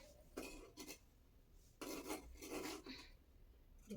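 Scissors snip through saree fabric in a few short, raspy bursts, with a pause in the middle followed by several more quick cuts, close and fairly quiet.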